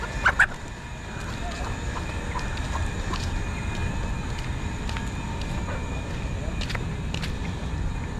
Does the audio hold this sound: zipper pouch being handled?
no